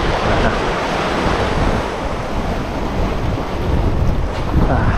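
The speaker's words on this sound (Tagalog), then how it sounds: "Part pa rin yan na magandang sabog-sabog ng alon." Ocean surf breaking around a small boat off Palawan during a fishing trip, a loud continuous rush of crashing waves and spray mixed with heavy wind buffeting the microphone.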